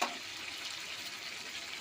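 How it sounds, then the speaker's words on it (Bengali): Spiced chicken stir-fried with fried potatoes in a pan, giving a bright, steady sizzle close by, with a brief stirring scrape at the start and no voices. "মশলা চিকেন কিছুক্ষণের জন্য কষে নিলাম, এবার আমি আলু ভাজাগুলো দেবো এর মধ্যে।"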